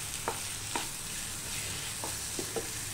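Mango sheera with chopped mango pieces being stirred in a pan, with a few soft scraping strokes of the spoon over a low, steady sizzle.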